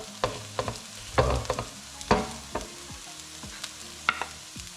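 Duck confit being stirred in a pot over a low flame, a spoon scraping and clacking in short separate strokes against a faint frying sizzle, close and moderately loud, with no talk.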